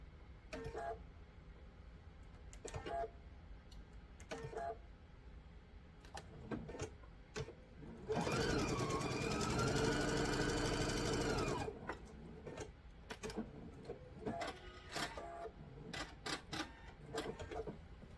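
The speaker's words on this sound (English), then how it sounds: "when you're sewing these, you want to sew all the way from the very top of your fabric down to the very bottom of your fabric" A sewing machine stitches a quarter-inch seam down a quilt block, with soft taps and clicks from handling the fabric, then a steady whirring run of stitching for a few seconds in the middle before the light clicking returns.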